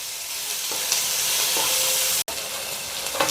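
Fried crab tipped into a pan of sizzling onion, tomato, green chilli and ginger, a loud steady hiss of frying with a brief pause partway through and no talking.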